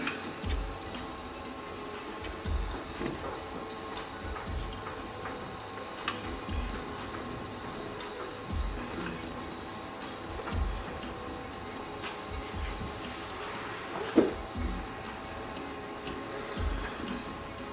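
A Sidewinder X1 3D printer running steadily, with a continuous whir of motors and fans and faint ticking movements, close and fairly quiet throughout with no talking.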